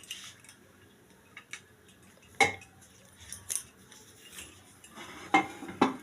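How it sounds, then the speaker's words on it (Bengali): A pressure cooker lid is fitted and locked after its whistle has been taken off while a cake is being made. Faint metallic clicks and clinks sound with a few sharper knocks in a quiet kitchen, and there is no talk. "এবার সিটিটা খুলে আমি ঢাকনাটা আটকে দিচ্ছি।"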